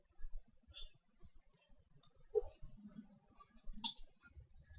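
Sharp computer mouse clicks, a few spaced apart and fairly close, made while picking points on a sketch outline in CAD software, with faint low rumbles between them.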